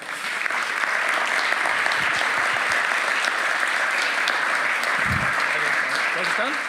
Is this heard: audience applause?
yes